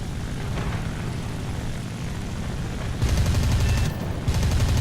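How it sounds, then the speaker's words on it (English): A bomber's tail gunner firing in War Thunder, heard as rhythmic bursts of rapid shots over a steady propeller-aircraft drone, louder and more distinct in the final two seconds with a brief pause between bursts. "Looks like it's a bomber of some sorts because it's got a tail gunner shooting off"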